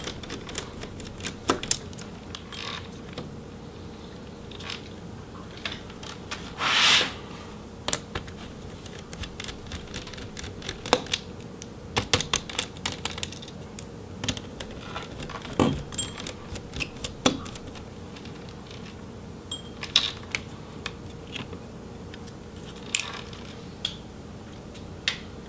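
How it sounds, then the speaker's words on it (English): Small screws being removed from the cooling fans of a Lenovo Legion Y530 laptop, with sparse, irregular metallic clicks and light taps close by against a quiet background. "the cooling fans just have a couple more screws. So we'll go ahead and remove the cooling fans"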